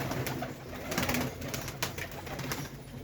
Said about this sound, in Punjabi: ਲੋ ਜੀ ਕਬੂਤਰ ਦੇਖ ਲਓ ਇੱਕ ਤੋਂ ਇੱਕ ਆਏ ਹੋਏ